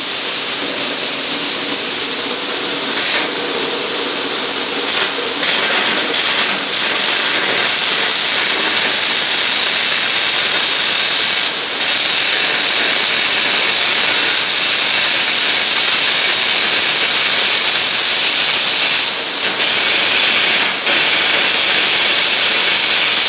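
Carbon air arc gouging along the bottom of a gusset weld on a steel base plate: a loud, continuous roaring hiss with crackling bursts, steady and close throughout.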